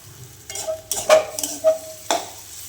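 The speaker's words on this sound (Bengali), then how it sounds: "চলো নাড়ানাড়ি করি এগুলো নালে গায়ে লেগে যাবে" Radish greens and chicken masala being stirred in a frying pan, a few scraping spatula strokes with soft sizzling, close and distinct, no talk.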